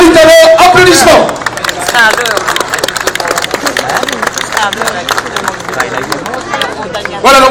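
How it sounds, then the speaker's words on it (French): Roadside crowd applauding and cheering for Italian cyclist Danilo Napolitano at a Tour de Wallonie stage finish, a steady dense patter of clapping under loud commentary. "Danilo Napolitano, applaudissements."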